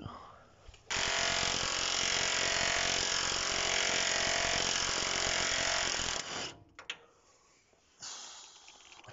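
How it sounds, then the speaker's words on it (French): An impact wrench rattles hard and continuously for about five seconds while loosening torsion bar bolts on a car's front suspension, then cuts off, followed by a couple of short bursts and quieter handling noises. "Heureusement qu'on a la clé à choc"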